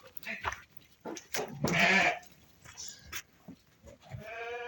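Female lambs for sale bleat several times in close succession, loud and near, with a few short vocal cries spread across the pen.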